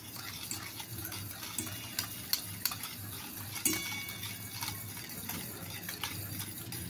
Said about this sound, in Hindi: और अब डाल देंगे ये 1/2 कप रिफाइंड, और इसको भी अच्छे से मिला लेंगे।